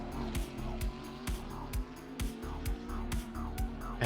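Race cars in an AI-driven pro league racing video game, engines droning steadily with a regular series of sharp whooshes as cars sweep past during laps, dense and continuous with no talk.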